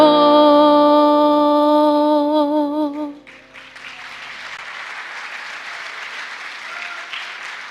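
A church congregation at a Sunday service in La Paz breaks into applause for a singing group, a dense wash of clapping hands that follows the last sustained sung notes and continues steadily.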